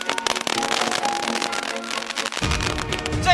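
Tomahawk fireworks firing outdoors in a rapid, dense crackle and series of pops, loud and continuous, with a heavier burst of low booms near the end.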